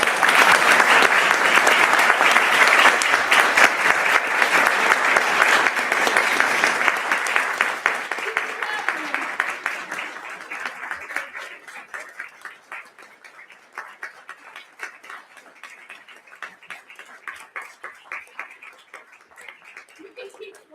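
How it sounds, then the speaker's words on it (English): Crowd at a filk music convention evening claps loudly and densely at first, then thins over several seconds into scattered, quieter claps that continue to the end. "You can keep clapping"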